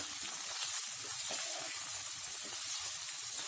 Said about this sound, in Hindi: नेक्स्ट हम इसमें 200 ग्राम पनीर डाल देते हैं। इसे भी हल्का सा फ्राई कर लें।